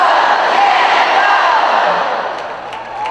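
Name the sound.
audience shouting cheer Go Jenna Go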